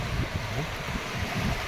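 Sea waves wash steadily onto the rocky shore at Gopnath, a constant broadband surge mixed with wind buffeting the microphone, with no talk.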